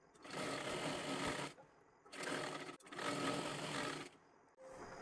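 A sewing machine stitches fabric in three loud, steady bursts of running, separated by short pauses, with no talking.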